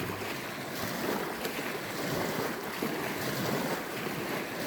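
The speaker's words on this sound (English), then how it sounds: "sounds like an ocean back there." A steady, rushing roar like ocean surf in the background outdoors during a summer arrowhead hunt, mixed with wind buffeting the microphone, continuous and fairly loud with no talking.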